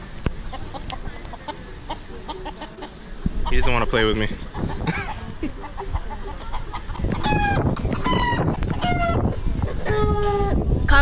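A rooster clucks and crows in short bursts with harmonic calls, close by in Maui, while a person talks over it.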